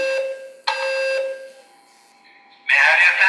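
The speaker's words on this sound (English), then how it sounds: "We are conducting testing in the fire alarm system." A building fire alarm system under test sounds loud, piercing electronic tones that cut off abruptly. After a brief lull the harsh buzzing signal bursts back in, with a voice faintly present.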